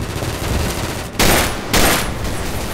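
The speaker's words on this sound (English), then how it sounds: "I like this gun. It's shooting!" Dense, loud video game gunfire in a continuous automatic stream, with two heavier bursts standing out near the end.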